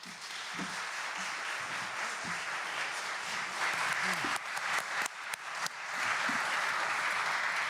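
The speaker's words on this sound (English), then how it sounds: "our esteemed guests who deserve a special round of applause" An audience at a live election-night exit polls show applauds the arriving guests. The clapping is sustained and even, swelling slightly toward the end, with a few low voices murmuring beneath it.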